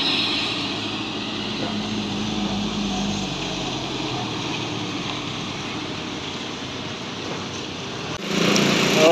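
Armada and Sempati Star buses racing after rain, a steady droning engine roar at mid distance that swells louder near the end.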